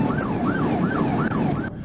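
A police car siren wails in a steady, rapid rising-and-falling cycle during a highway traffic stop, loud and continuous over road rumble and wind, with no talking.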